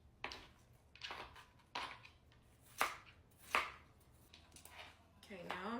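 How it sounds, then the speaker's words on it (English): Knife chopping fresh mint leaves on a cutting board, about eight crisp separate chops in an uneven rhythm, close and fairly quiet, with a voice speaking briefly at the end. "now I'm just gonna chop up my mint."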